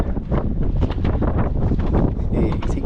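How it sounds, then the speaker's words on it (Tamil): Strong wind buffets the microphone at Lohagad Fort in Maharashtra, India, a loud, continuous roaring rush with gusty swells throughout and no pause. "என்னடா நடக்க முடியல காற்றடிக்குது"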